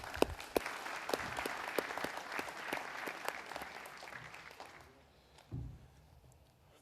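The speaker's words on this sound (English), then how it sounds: "give yourself a round of applause" The class of 2021 applauds at a graduation ceremony, a sustained round of clapping with sharp individual claps standing out, fading to quiet near the end, where a brief low thump follows.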